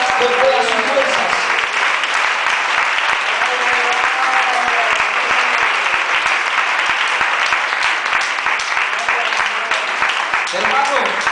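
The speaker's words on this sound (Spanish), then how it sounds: "Den ese aplauso al Señor Jesús con todas sus fuerzas." A church congregation gives loud, sustained applause for Jesus at a pastor's urging. The clapping is dense and steady throughout, with faint voices mixed in.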